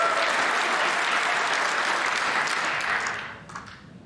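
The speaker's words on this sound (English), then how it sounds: "A standing ovation" Loud, dense applause from a snooker crowd at the Barbican giving a standing ovation after a 147 maximum break at the UK Championship, sustained and steady before fading toward the end.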